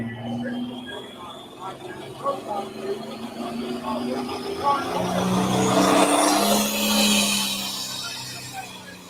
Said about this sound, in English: First tractor down the track.